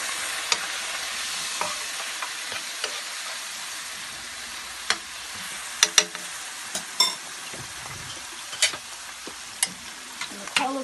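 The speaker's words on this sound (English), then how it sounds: "The cabbage I'm going to give a stir." Cabbage cooks in a hot pan with a soft steady sizzle, while a spoon stirs it in several sharp, close scrapes and clinks.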